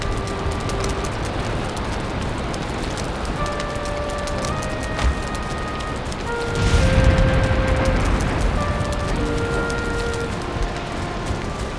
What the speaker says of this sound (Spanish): No entiendo ese aguacero acá.